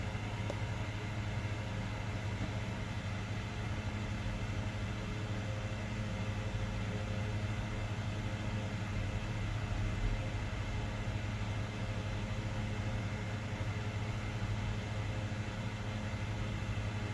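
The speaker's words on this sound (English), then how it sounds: "you can probably hear a fan going" An electric fan runs steadily in a room, giving a constant, even whir and hum, fairly quiet and unbroken throughout, with no talking over it.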